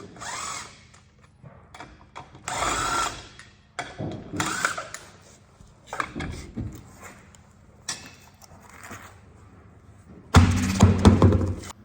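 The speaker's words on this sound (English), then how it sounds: "now I'll be able to spin them off and take the wheel off" Lug nuts are spun off a Tanami X15B trailer wheel with a power tool and the wheel is pulled free, heard as several short whirring bursts separated by quieter clunks, ending in a louder, longer burst.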